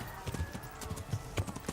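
Horse hooves clip-clopping at a run in the medieval game Kingdom Come: Deliverance, a quick rhythmic series of close, thudding footfalls with no speech.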